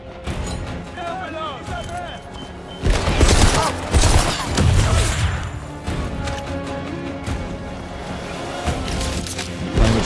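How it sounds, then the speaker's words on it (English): Flashbang and gunfire in a 007 video game: dense bursts of shots and bangs crowd together in a loud, busy mix, with voices and game noise running throughout. "Deploying flashbang!"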